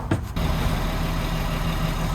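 A truck engine idles steadily in freezing cold, a close, low, continuous rumble that settles in after a brief noisy start.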